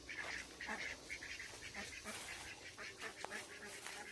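Ducks quack repeatedly in quick bursts, fairly faint and a little distant, several calls overlapping in an outdoor setting.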